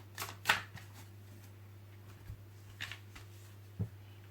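Cards being shuffled for a December 2020 Scorpio tarot reading, a few soft, brief riffling bursts spaced apart over a steady low hum, quiet and close, with no talking.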